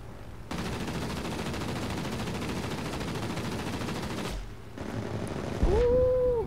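Sustained aircraft machine-gun fire in World of Warplanes, a long loud unbroken burst that stops briefly, then resumes and ends with a rising engine or whine tone.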